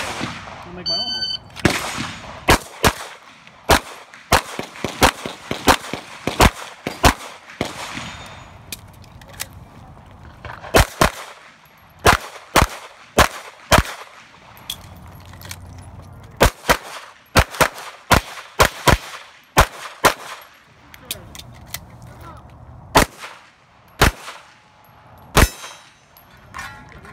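Rapid gunshots ring out at a steel-target shooting match, each sharp crack followed by the clang of bullets hitting steel plates, coming in quick irregular strings with brief pauses across the stage.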